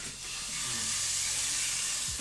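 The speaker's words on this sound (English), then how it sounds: "I love a good sizzle." Food sizzles loudly in a hot, smoking pan, a steady broadband hiss that rises after a brief start and holds without a break, with no talk over it.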